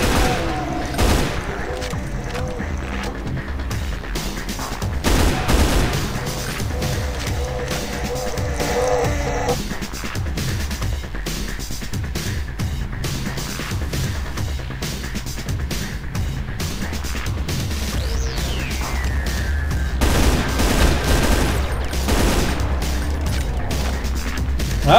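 Enemy gunfire in Brutal Doom's Extermination Day mod, with rapid volleys and crashes set against a constant mechanical rumble, steady and fairly loud for the whole stretch.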